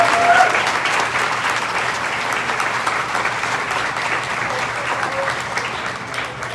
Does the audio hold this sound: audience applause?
yes